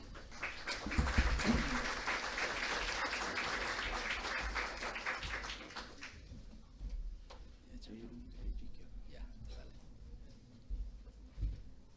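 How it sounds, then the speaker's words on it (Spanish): A room of people applauds steadily for about six seconds, then the clapping fades into murmuring and scattered movement. "presentarles al ingeniero Franco Fernández, recibiéndolo con un fuerte aplausos."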